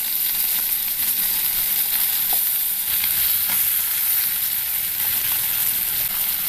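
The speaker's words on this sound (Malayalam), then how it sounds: "നമ്മൾ മത്തിയൊക്കെ ഫ്രൈ ചെയ്ത് കഴിക്കുന്ന ആ രീതിയിൽ ഇത് മൂത്ത് കിട്ടണം." Sardines frying in hot oil in a pan for a pickle, a steady dense sizzle with occasional soft stirring clinks, close and continuous, no talking.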